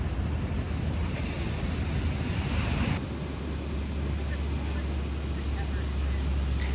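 Ocean waves rolling onto rocks along the Costa Rican coast as the tide rises, a steady loud roar of surf with wind buffeting the microphone and a brief shift in the wash partway through.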